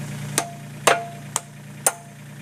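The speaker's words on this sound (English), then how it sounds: "not a hammer, one of these rubber mallets." Rubber dead blow mallet tapping a pin into place: four sharp, evenly spaced knocks about half a second apart, close and fairly loud, over a steady low hum.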